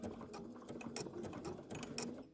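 A sewing machine runs a decorative zebra stripe stitch, its needle chattering steadily with a fast mechanical rhythm, two sharper clicks standing out along the way, close and moderately quiet.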